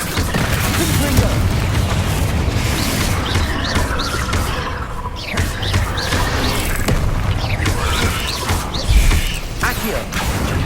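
A Confringo spell fires in Hogwarts Legacy on PS5, with booming blasts, clattering impacts and whooshing magical effects layered through busy, loud game sound.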